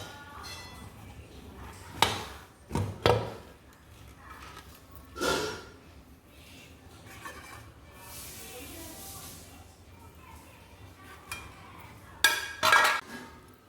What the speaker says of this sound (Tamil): வெயிட் எடுத்துட்டு பார்ப்போம்